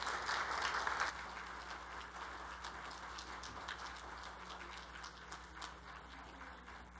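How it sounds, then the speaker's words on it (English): A church audience applauds at an Easter cantata, a dense patter of clapping that is strongest for the first second and then thins into a quieter, scattered spatter. "please give Candy and Matthew another round of applause."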